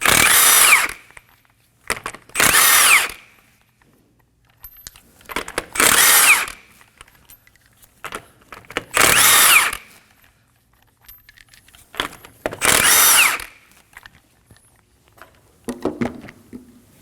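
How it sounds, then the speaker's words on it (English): A power tool, likely an impact wrench with a 21mm socket, removes the lug nuts from the front wheel of a 2011-2016 Kia Optima 2.4L. Five loud, close whirring bursts, each about a second long, are separated by quiet pauses and small metallic clinks. "Using a 21mm socket, go ahead and remove the lug nuts."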